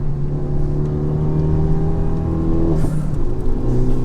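Renault Megane Trophy hot hatch accelerating on the road, a loud sustained engine drone heard from inside the car that rises in pitch, briefly drops around a gear change and then climbs again, with no talking.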